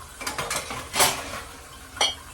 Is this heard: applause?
no